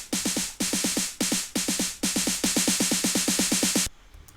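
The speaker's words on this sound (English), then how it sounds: "I decided to use this snare roll loop" A bright, loud snare roll loop in a piano house track plays rapid snare hits in fast repeating bursts, building steadily before cutting off abruptly near the end.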